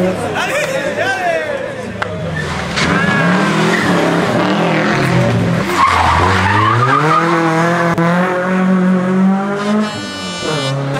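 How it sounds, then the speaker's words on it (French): A rally car on a Rallye Monte-Carlo special stage in Ardèche passes on two wheels. Its engine roars and rises in pitch with tire skidding, loud and close, while spectators chatter throughout. "Un passage sur 2 roues pour économiser de la gomme."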